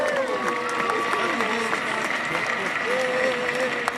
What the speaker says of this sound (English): Clap your hands and jump up and down.